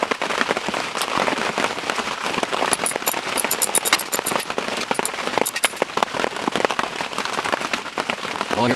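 Heavy rain drums loudly and steadily on a surface outdoors during a dirt bike clutch installation, dense crackling patter with sharper individual drop hits throughout.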